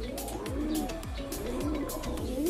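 A gentle racing pigeon in its loft coos repeatedly, four or five rolling, descending calls in a steady rhythm, close and moderately loud with no voices.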